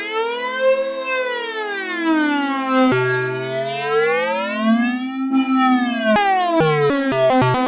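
A Waldorf Blofeld synthesizer effect with loud feedback sweeps up and down like a wailing siren, its pitch wobbling in slow swoops, then breaking into quick stuttering retriggered bursts near the end.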